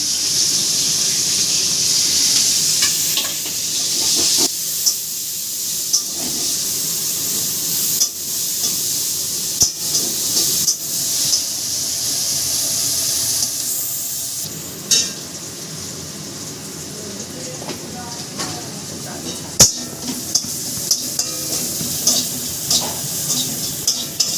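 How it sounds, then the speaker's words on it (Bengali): Nigella seeds, green chilies and onion frying in hot oil, a bright continuous hiss and sizzle with scattered spatula scrapes and clinks, close and fairly loud with no voices. "কালো জিরে দিলাম, এই কাঁচা লঙ্কা দিলাম, পেঁয়াজ দিলাম।"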